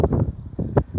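Gusty wind buffets the microphone on a fishing trip in high winds, coming as uneven low rumbling bursts across one brief second.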